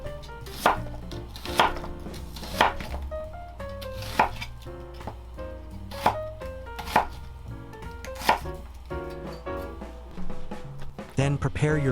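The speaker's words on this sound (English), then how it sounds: "About half to 1 onion depending on size. Cut into 1 centimeter slices." A knife chops an onion into 1 cm slices on a cutting board, with regular sharp, close thuds repeating steadily under soft background music.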